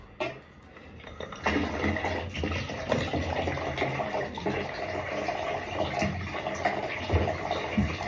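Dirty water running steadily from a cut radiator pipe as a central heating system drains during a bathroom renovation, a continuous close splashing gush with no speech.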